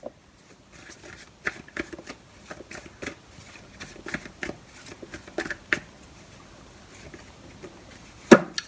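Tarot cards shuffled and laid down by hand, a run of close, crisp riffling and flicking taps at an uneven pace, with a sharper slap near the end and no talking.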